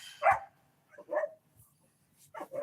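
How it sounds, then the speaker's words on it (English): Dogs in a house let out a few short, sharp barks and yips, spaced apart with quiet gaps, fairly close and without talk. "So I'm sorry about the dogs, guys."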